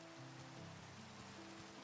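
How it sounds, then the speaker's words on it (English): Rain falls steadily in the Minecraft video game in hardcore mode, a soft, continuous patter under faint tonal game music, with no talking. "let the rain do its job."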